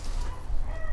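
A chicken clucks briefly amid a steady low rumble of background noise, fairly close but not loud.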